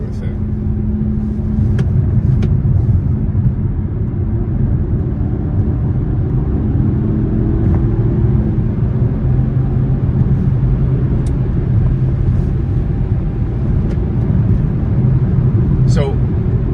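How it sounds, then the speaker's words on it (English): Inside a moving car, a constant broad low roar of wind and road noise runs throughout at steady loudness, with occasional faint clicks and a brief higher squeak near the end. "So, like right now, we're getting probably a ton of wind noise, right?"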